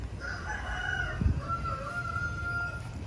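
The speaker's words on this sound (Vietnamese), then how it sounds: "Đây mấy anh em nuôi gà, gà đá" A fighting rooster kept at a rural home in Tiền Giang, Mekong Delta, crows clearly in a long drawn-out call against steady outdoor background noise.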